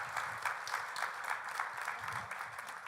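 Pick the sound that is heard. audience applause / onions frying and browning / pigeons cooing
audience applause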